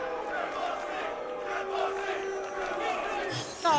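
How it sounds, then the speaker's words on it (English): A crowd at a UFC 323 press conference boos loudly and continuously, a dense roar of many voices that swells and holds throughout. "Can you guys boo me first before I start?"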